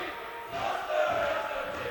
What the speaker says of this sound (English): The Gloucester crowd trying to boost the atmosphere in here yet again